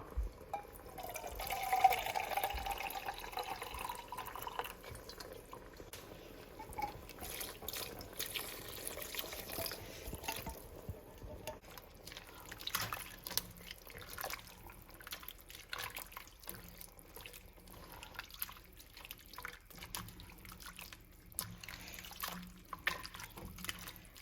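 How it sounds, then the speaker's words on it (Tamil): Water is poured into Thai curry in a pan, making a faint, quiet trickle and splash that goes on for a while with no talk. "லைட்டாக இதில் தண்ணி மிக்ஸ் பண்ணி"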